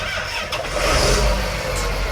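A tractor engine cranks and catches, rising into a steady, loud rumble that settles toward idle, heard up close from inside the cab with no talking.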